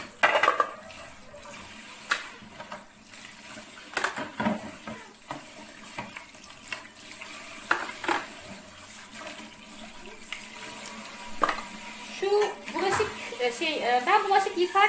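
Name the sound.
tap water running while washing dishes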